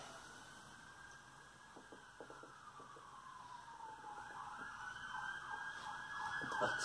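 An emergency vehicle siren wails and sweeps in pitch as it passes by, growing gradually louder toward the end over a low road rumble, with no talk.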